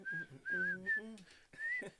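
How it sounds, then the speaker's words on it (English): A man whistles a short tune in several bright phrases mixed with hummed or sung notes, close and fairly quiet, in a recording studio. "in the original version, I'm whistling. I'm doing that."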